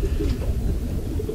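A racing pigeon hen gives soft, low cooing, close and quiet, a short rolling burble with no other sounds around it.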